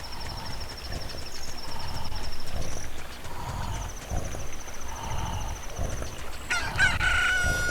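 Chicken crowing in the video game The Legend of Zelda: Ocarina of Time, layered over a steady busy game soundscape with repeated tonal calls and a brighter synthetic chime near the end, no talking.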